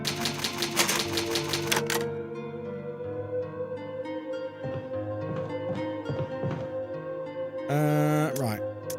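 A typewriter used to save progress in a Resident Evil video game clacks in quick bursts over layered in-game music, with a louder, busier flurry of keystrokes near the end.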